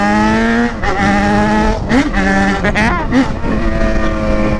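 A loud Yamaha XJ6 motorcycle fitted with a straight-through exhaust, close by, droning and revving in repeated rising and falling pulls with brief dips between them.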